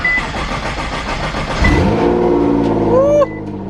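Nissan GTR engine cranks and fires after a jump start in the snow, turning over rhythmically before catching into a loud, close rev that rises and then drops off.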